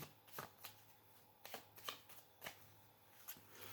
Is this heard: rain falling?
no